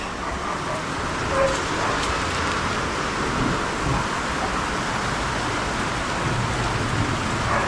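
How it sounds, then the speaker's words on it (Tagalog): Heavy rain pours down in a dense, continuous hiss, loud and close, with no pauses throughout. "Ay, ulan."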